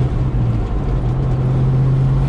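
A deep classic Ford Mustang engine idles steadily nearby, a low constant rumble with an even tone throughout.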